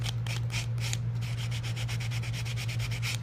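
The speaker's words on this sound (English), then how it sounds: "you can actually get some regular fine grit sandpaper and get in there" Fine grit sandpaper rubbing over a painted brooch, a steady run of quick scratchy back-and-forth strokes, close and alone.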